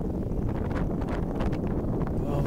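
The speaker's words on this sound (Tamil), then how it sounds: "என்ன காற்று பார்த்தீங்களா, சூப்பராக காற்று வருது." Strong wind at Giza, Egypt buffets the microphone in a steady, loud roar with rustling gusts throughout, no clear voices.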